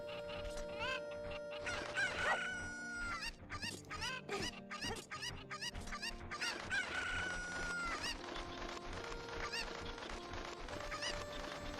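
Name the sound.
cuccos (chickens) clucking and crowing, from video game Zelda Ocarina of Time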